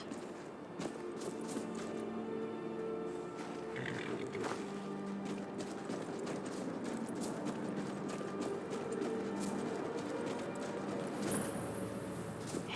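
Hoofbeats from a horse in Skyrim patter softly and continuously at a running pace, mixed low under the game's droning music and ambience, with a few brighter mechanical clicks.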